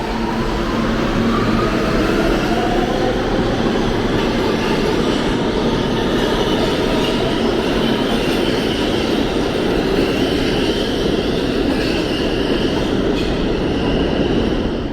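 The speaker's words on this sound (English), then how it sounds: "We're taking the M train." A New York City subway M train riding along, a steady loud rumble of wheels and car noise filling the whole stretch with faint squeals, no voices.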